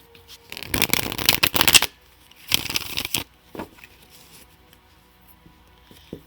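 Tarot cards from the Connolly and Black Moon Astrology decks being shuffled, two dense bursts of riffling and flicking followed by a few softer taps and slides, close and clear with no talk.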